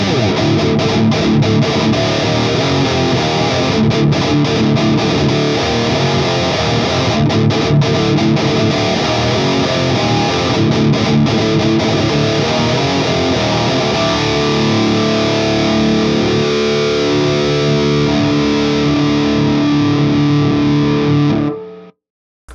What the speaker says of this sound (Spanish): aquí lo que hice fue juntar estos tres plugins para conseguir un tono de metal decente